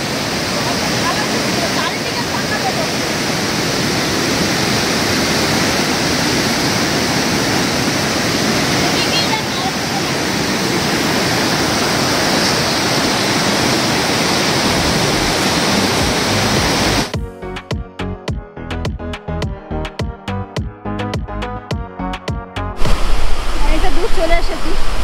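Rainbow Waterfall near the Double Decker Living Root Bridge in Cherrapunji, a loud, steady roar of falling water close by, briefly interrupted by a choppy stretch before the roar returns.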